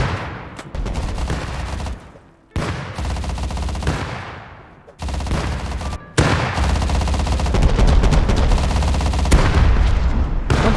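Repeated explosions from grenades hitting the Bradley armored vehicle in the game Rust, loud bursts in rapid succession with brief gaps, building into continuous booming gunfire-like blasts.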